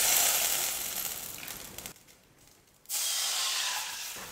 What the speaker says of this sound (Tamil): இப்போ இதே கடாயில ஸ்டவ் ஆஃப் பண்ணாம நான் வந்து தண்ணி சேர்த்துக்க போறேன்.